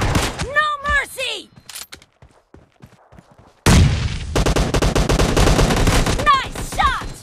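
Rapid video game gunfire with bursts of automatic shots and booms, loud and dense, broken by a quieter stretch of scattered single shots before a heavy barrage resumes; a voice calls out over the action.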